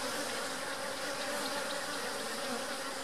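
Honeybees drone steadily at an opened hive during a split, a dense, continuous buzz close by with no pauses and no talk.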